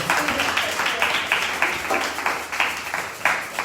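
A church congregation applauds and cheers in praise of the Lord. The dense, sustained clapping has rhythmic surges, and voices call out amid the crowd noise.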